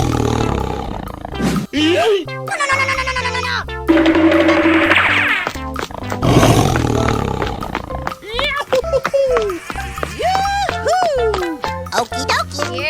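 A tiger roars in a 3D animal slide video game, loud repeated growling roars mixed with cartoonish game sounds and excited voices throughout.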